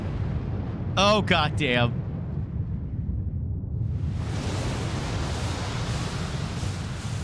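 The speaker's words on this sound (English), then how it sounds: "Ah, flashbang." A flashbang goes off in the video game Final Fantasy XIV: after a man's brief exclamation over a low background rumble, a sudden loud burst breaks in and carries on as a broad, sustained roaring hiss to the end.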